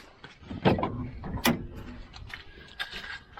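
A camper seat folding up after its lever is pulled: a few quiet clunks and mechanical rattles, with two sharper knocks close by.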